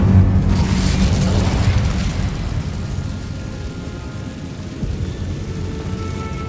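A fiery Incendio spell blast in Hogwarts Legacy, heard as a loud, sustained low-end boom and roar that stays heavy for several seconds and slowly settles, with no talking over it.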